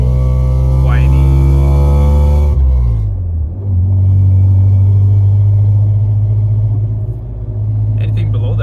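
Toyota Tacoma with URD extractor pipes and Y-pipe revving loudly up close, a deep droning exhaust rumble that climbs in pitch, drops, then settles into a steady heavy hum with a slight whine.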